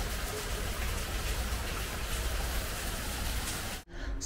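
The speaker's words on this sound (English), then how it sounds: "Y'all ever just sit in the rain and just think?" Steady rain falling outdoors, a dense, even patter close by that runs unbroken before cutting off abruptly near the end.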